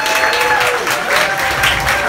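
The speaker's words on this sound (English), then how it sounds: "Give her another round of applause." Audience applause at a Lucy Hobbs Project meetup, a dense, loud burst of clapping from a crowd that carries on steadily throughout.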